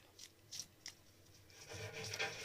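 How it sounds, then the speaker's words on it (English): Zombicide board game cards being shuffled into a zombie deck: a few soft, brief riffling bursts early on, then a longer, denser shuffling rustle, close up with no talk. "The last thing we need to do is shuffle the zombie deck."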